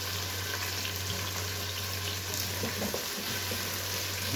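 Garlic ginger paste frying in a pan for a chicken chickpea curry gives a steady, close hissing sizzle with faint stirring scrapes throughout, with no voices.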